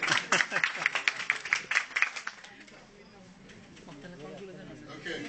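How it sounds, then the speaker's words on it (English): An audience claps for a few seconds after an MBA finance presentation in a classroom. The dense, steady clapping is close by, then thins out and gives way to quiet room murmur and talk. "Give them a round of applause."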